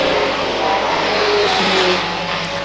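A Holden Commodore super tourer race car in an endurance series race howls through an infield hairpin, its engine note steady and loud throughout with no pause or talk.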